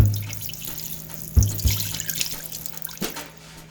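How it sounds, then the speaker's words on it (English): Water splashes and trickles into the inner pot of an Instant Pot beneath the metal trivet rack, a running pour with a few louder splashes and drips, no voices. "I'm gonna put about a cup of water down below it."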